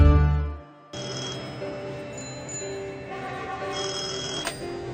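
A telephone rings with a steady electronic tone that repeats over several seconds, following a brief low rumble at the start, with no one speaking.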